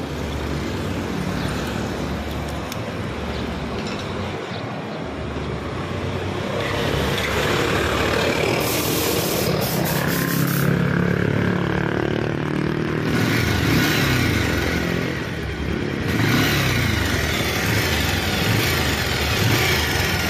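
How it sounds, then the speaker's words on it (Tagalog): A vehicle engine runs steadily throughout, a continuous mechanical rumble with some rising and falling intensity, with no talking over it. "pakinggan ko lang makina mo."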